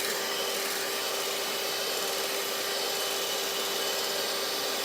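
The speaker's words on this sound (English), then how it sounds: "So the whisk is only hitting a small part of the bowl." A whisk whips aquafaba in a shallow round bowl, giving a continuous, even, high-pitched whirring hiss that stays steady and fairly loud throughout, with no talking.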